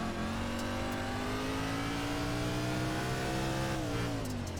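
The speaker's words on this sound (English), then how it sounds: "There's something wrong with the engine model. Like, that fluttering is weird." A street stock car engine in the iRacing sim on the Bristol dirt track, revving steadily with a rising pitch and a slightly fluttering, wavering drone, loud and continuous, then easing off near the end.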